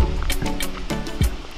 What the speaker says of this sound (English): Where is the waterfall here?